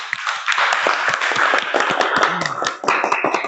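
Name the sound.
applause, clapping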